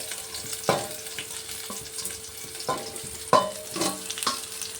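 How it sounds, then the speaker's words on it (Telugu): Dried red chillies, cumin seeds and coriander seeds fry in hot oil in a pan for a coconut chutney, a steady close sizzle broken by several sharp scrapes and clatters of a spoon stirring, with no talking. "మిరపకాయని అటు ఇటుగా కలుపుకొని ఇలా వేగిన తర్వాత దీంట్లో జీలకర్ర, కొద్దిగా ధనియాలు వేసుకోవాలి."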